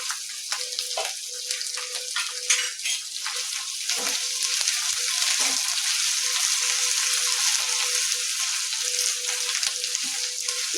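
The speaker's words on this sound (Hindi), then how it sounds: "इसे 2-3 सेकंड भून लेंगे।" Grated ginger and chopped green chillies sauté in hot oil for a bread pakoda filling, giving a continuous loud sizzle with occasional light stirring clicks, close and unvoiced.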